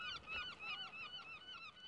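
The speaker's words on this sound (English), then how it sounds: "Birds. Right, birds." Geese honk in a quick, repeated series of nasal calls, several birds overlapping in a steady rhythm, heard faintly and without voices.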